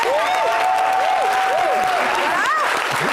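Audience applause for a team captain at a partners' football tournament event in Côte d'Ivoire, steady clapping under a loud voice and swooping music or vocal tones.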